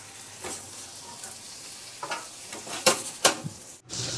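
Butter garlic shrimp stirred in a pan, a low steady sizzle with scattered sharp scrapes and clinks of the utensil against the pan.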